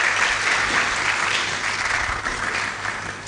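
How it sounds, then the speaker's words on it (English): Steady, dense applause from a large audience fills the moment, holding an even level throughout with no voices. "they deserve a round of applause for that."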